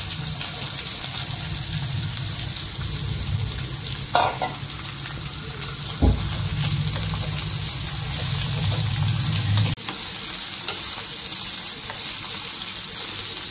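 Chopped bitter gourd sizzles and fries steadily in hot oil in a home kitchen, with a broad continuous crackle, a few sharp stirring clatters and a brief low rumble that drops away near the end.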